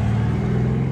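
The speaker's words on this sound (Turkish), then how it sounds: "Yanından bir araba geçti de çok sesliydi." A loud car passing on a street, heard as a close, steady low engine rumble and roar filling the whole short moment.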